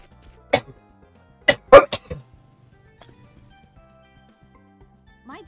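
Several close, sharp coughs burst out in a short cluster, one single and then three in quick succession, before near silence with faint background noise.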